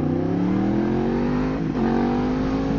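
Yamaha MT-10 motorcycle accelerating hard, its engine note climbing steadily in pitch, dipping briefly as it shifts gear, then rising again; loud and close throughout with no talking.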